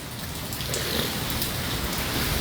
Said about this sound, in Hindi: इतना तगड़ा तूफान आयु, और तूफान भी मूसलाधार बारिश भी।